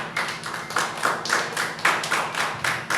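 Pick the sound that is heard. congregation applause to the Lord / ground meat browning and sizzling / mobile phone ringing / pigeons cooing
congregation applause to the Lord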